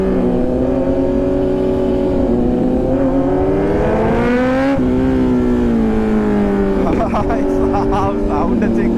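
Kawasaki Z900 superbike engine and exhaust on the move, a loud continuous drone whose pitch rises and falls with throttle, steady and close throughout with wind rush behind it.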